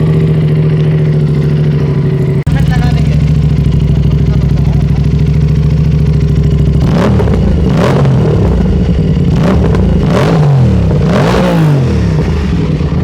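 An Aprilia RS 457 fitted with a GPR exhaust system, run without its end can, idles with a loud raw drone, then snaps through several sharp revs that rise and fall, close and harsh throughout.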